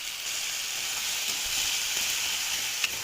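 Tomatoes fry in a pan, giving a steady, close hiss of sizzling oil that stays even throughout, with one small clink near the end and no talking.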